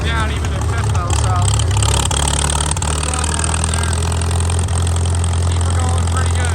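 An antique tractor engine holds a steady low drone while engine braking downhill in fifth gear, loud and close, and a person talks over it.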